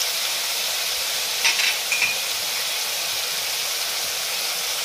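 Rice fries in oil with ground onion, garlic, ginger and chilli pastes and turmeric, a loud continuous close hiss with brief scraping stir sounds near the middle and no talking.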